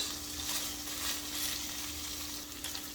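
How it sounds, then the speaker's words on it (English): Paneer cubes and peas fry in a pan, a soft, steady sizzle with faint crackles and a low hum underneath, close and unbroken without talk. "I don't need it to be fully fried"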